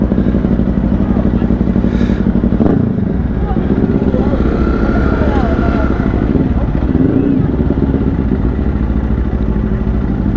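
A Zontes X310 motorcycle on a riding test, its engine droning steadily and loudly at speed under constant wind rush, with a brief rise in revs early on.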